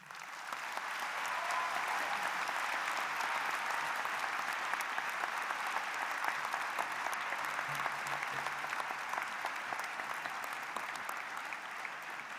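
A large audience applauds at a 2014 university undergraduate commencement ceremony. The clapping swells quickly and holds as a dense, even roar for the whole stretch, with no voices on top.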